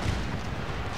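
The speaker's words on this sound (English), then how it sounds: "Cannons fire here." Cannons boom in a battle in the game Empire: Total War, giving about a second of dense, rumbling artillery fire with no speech.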